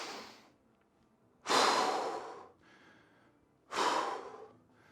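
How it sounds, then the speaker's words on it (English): Slow, close breathing during a bodyweight workout cool-down: a loud inhale, a quieter exhale, then another loud breath, with a short pause between each. "1 big breath in to 2 complete exhales out with a pause at the top and a pause at the bottom"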